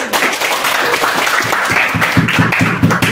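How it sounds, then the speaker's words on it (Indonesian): A classroom of students applauds a classmate, dense steady clapping filling the space, with a few voices and chatter mixed in near the end. "tepuk tangan untuk Konia"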